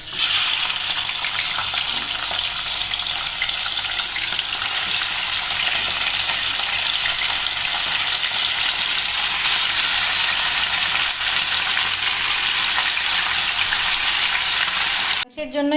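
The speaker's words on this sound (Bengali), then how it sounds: "এবার এই তেলের মধ্যেই এই চিকেনগুলোকে ভেজে নেব আমি।" Chicken pieces fry in hot oil for a biryani, giving a loud, continuous hiss and crackle that holds steady throughout before cutting off abruptly at the very end.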